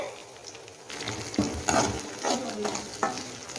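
Chopped onion and tomato sizzling in a hot pan while being stirred, with crisp frying hiss and several scraping stir strokes, close and clear with no talk.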